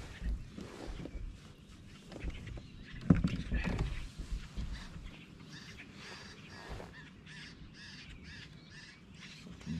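A crow caws in a series of harsh calls over outdoor ambience at a lake during a kayak fishing tournament, moderately close and repeated irregularly.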